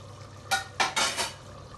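Onions go into a heated pan for homemade khichdi, making a few short, close bursts of scraping and sizzling against a quiet background. No one speaks.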